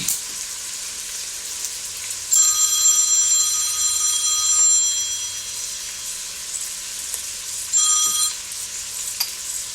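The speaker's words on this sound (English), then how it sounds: "sorry about that phone ringing" A telephone rings in a home kitchen while sausage and black-eyed pea chili cooks, two bursts of trilling electronic ringing over a soft background sizzle, with a gap between them.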